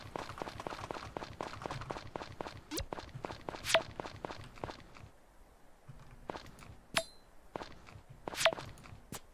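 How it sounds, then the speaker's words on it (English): Bell dings twice at night in the game Story of Seasons: Friends of Mineral Town, each a brief clear tone riding over a steady patter of footsteps. "You hear the bell."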